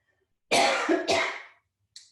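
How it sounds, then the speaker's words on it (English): Two quick close coughs in a row, followed by a brief faint throat sound after a short pause. "I'm gonna cough"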